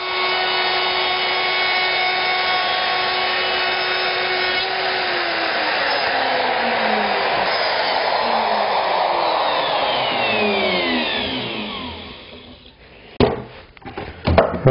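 Bosch power tool working on a wooden chicken coop, a loud steady motor whine that slowly drops in pitch as it winds down, followed by a few sharp knocks and clatter.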